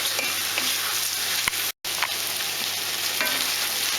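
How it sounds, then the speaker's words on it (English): Onions and sweet peppers for a Ghanaian corned beef stew sizzle steadily in the pot, a close, continuous frying hiss with faint stirring clicks and one brief dropout. "Just let it stew in there till the sweet peppers get slightly"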